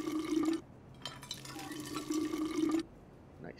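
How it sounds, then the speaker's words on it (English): Water fills canteens in the video game We Happy Few, a close, bubbling, gurgling pour in two bursts separated by a short pause, with a faint trickle at the end. "I will fill my canteens with water."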